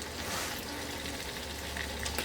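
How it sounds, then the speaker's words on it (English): Rice fries in a pan on a burner with a steady, crackling sizzle, close and moderately quiet, continuous with no talking. "I hear it sizzling louder there"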